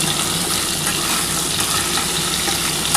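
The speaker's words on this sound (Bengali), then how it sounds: "একটু লাল করে আগে ভাজা হোক বন্ধুরা" Potatoes and papaya fry in hot oil in a pan for a vegetarian soybean curry, a steady loud hissing sizzle that continues evenly without pause.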